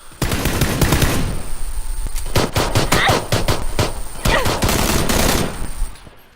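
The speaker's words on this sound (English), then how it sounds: "I'm planning on shooting at him" Rapid automatic gunfire from the video game PUBG rattles out in dense bursts, loud and close, with brief pauses between volleys and a quieter tail at the end.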